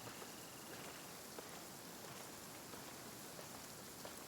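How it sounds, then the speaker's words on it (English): Steady, dense rain patters evenly and softly across the whole stretch, with no other sounds breaking through, as the weather falls in the video game Genshin Impact. "Oh, I love the rain."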